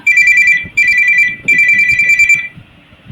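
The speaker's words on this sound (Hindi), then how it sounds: "डोलोराम फैमिली और बाकी सब लोग मोबाइल को बंद करिएगा।" A mobile phone ringtone goes off during an online prayer meeting, a loud, bright electronic melody sounding in three close bursts with brief gaps, the last burst longer and fading out.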